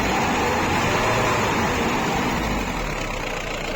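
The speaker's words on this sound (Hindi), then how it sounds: "इसके बाद आपको रेस देख के चेक करना है कोई अनयूजुअल साउंड इंजन" A used car's engine is revved during an engine check, heard near the engine: a loud, steady motor drone with a constant rumble that sustains throughout, no talking.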